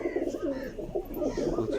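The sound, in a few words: pigeons cooing at a farmhouse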